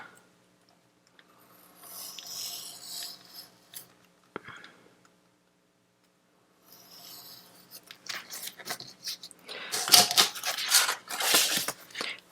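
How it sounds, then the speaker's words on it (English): A finger blade trims a piece of paper for a summer flip book, giving quiet, intermittent scraping and snipping strokes that build into denser, louder cutting bursts near the end, close up with no talking. "I have my finger blade, and I'm just going to trim this piece down."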